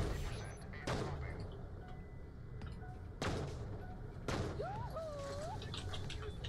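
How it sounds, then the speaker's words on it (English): Enemy gunfire in the sci-fi shooter Borderlands: The Pre-Sequel, with a few sharp, loud shots spaced several seconds apart over a steady game background, plus a brief warbling tone near the end. "Now he's shooting at me."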